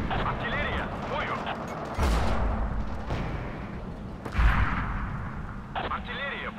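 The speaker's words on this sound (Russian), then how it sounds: "Артиллерия, бою!" Artillery and gunfire in the World War II shooter Forgotten Hope 2 at Dukla Pass, with heavy booms and crackling shots over continuous battle noise, plus a couple of stronger blasts, while a voice calls out orders.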